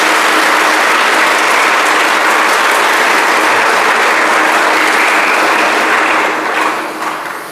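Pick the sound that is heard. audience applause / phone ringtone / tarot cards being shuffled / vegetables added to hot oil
audience applause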